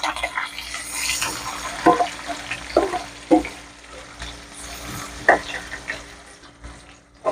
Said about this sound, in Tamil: நிறைய லைட்டாக ஜீரகம் பொரிஞ்சதும் வெங்காயத்தை சேர்த்துக்கிறோம்